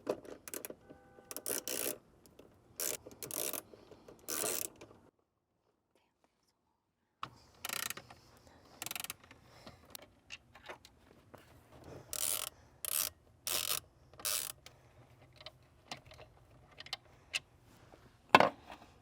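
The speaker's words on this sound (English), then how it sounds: "We're going to be using a 7mm thin extension to go ahead and remove the 3 bolts that are holding the speaker into place." A ratchet on a 7mm thin extension clicks in short quick bursts while backing out the bolts that hold a Ford Bronco door speaker, with a silent pause between rounds of clicking.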